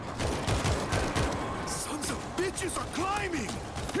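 Dense, rapid gunfire rattles on steadily while fighting zombies in World War Z, mixed with clanks and game noise. Voices talk over it throughout.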